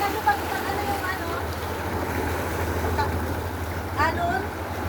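Sea waves washing against the shore at Pak Shui Wun, a continuous rushing surf under wind noise and a low steady rumble, with people talking faintly at moments.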